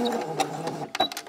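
Sewing machine stitching in reverse along a blouse sleeve hem: a brief, steady mechanical whir with rapid needle clatter, close and clear, ending in a few quick ticks.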